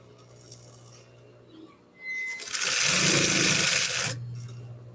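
A sewing machine stitches a tulle ruffle skirt in one loud, steady burst of about two seconds, rising out of a quiet room and stopping abruptly.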